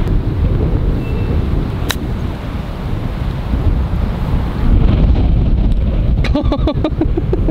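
Strong, steady wind gusts roar across an open golf course, buffeting the microphone with a constant low rumble, with a few faint clicks and knocks near the end.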